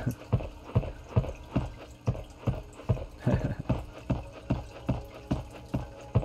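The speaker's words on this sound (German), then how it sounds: "das ist das Aquarium, was also so plätschert" Aquarium water in the Meteor Mess 3D video game splashes in a steady, evenly spaced rhythm of soft sloshing pulses, about two per second, clear and alone.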